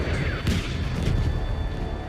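A bomb explosion in the video game Battlefield V erupts with a heavy booming blast and crackling debris, loud and dense, followed by rumbling low-end battle noise throughout.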